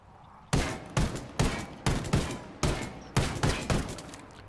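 A rifle fires in the video game Ghost Recon Wildlands: about nine loud, sharp shots at a slow, steady pace, each with a short ringing tail.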